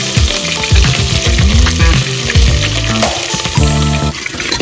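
Chilies hit hot oil that already holds cumin seeds and curry leaves, making a loud, close, crackling sizzle with bursts of spattering and stirring clatter.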